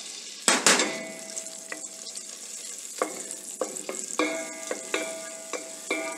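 Sliced onion, leeks and chopped garlic sizzle in a pot, a steady fry punctuated by several clanks and scrapes of a utensil against metal, close and fairly loud with no talking.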